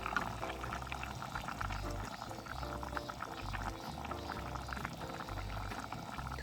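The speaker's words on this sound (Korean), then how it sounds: "김치가 이제 찌개가 보글보글 끓고 있고요" Kimchi stew made with tuna and Spam bubbles steadily in a pot, a close, continuous burbling simmer with no one speaking.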